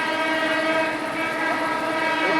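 Bangladesh Railway passenger train passing close by in winter, its horn sounding loud and sustained over steady wheel and carriage rumble, with no talking.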